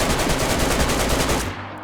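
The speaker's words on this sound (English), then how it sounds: "you can also shoot at a base to destroy it" Sustained rapid automatic gunfire fired at a player base in the video game DayZ, a loud continuous burst from a drum-fed AKM rifle that cuts off near the end.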